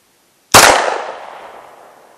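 A single sharp gunshot cracks loudly over a ProChrono DLX chronograph at an outdoor range, its report trailing off into a long echoing decay with no voices.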